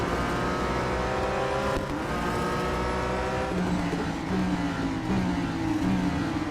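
Race cars in the video game Real Racing 3, a steady loud engine drone with rising and falling revs as the cars accelerate and shift, running continuously with no talk.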